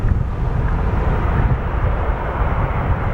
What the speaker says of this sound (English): a United 787-8 Dreamliner from Rome